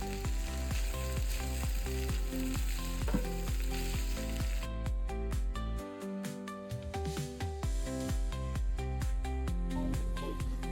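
Noodles are tossed and stir-fried in a hot pan with a loud, continuous sizzle and regular rhythmic scraping strokes of the spatula, close up, partway easing as the pan settles.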